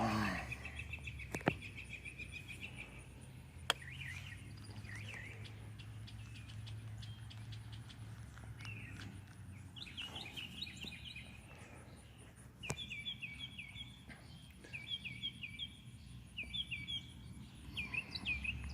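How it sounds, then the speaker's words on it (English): A bird perched atop a telephone pole calls repeatedly in short bursts of bright notes, with a few sharp clicks and a low rumble underneath and occasional faint talk nearby. "The bird making all that noise right there is on top of the telephone pole."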